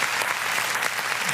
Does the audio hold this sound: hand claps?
yes